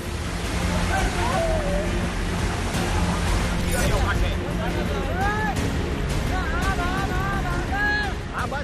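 Rushing floodwater in India roars as a continuous broadband wash, with voices calling faintly over the flow.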